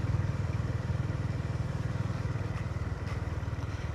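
A Honda GB350 motorcycle engine thrums steadily while riding along a road, its low pulsing beat close and constant with wind noise layered on top.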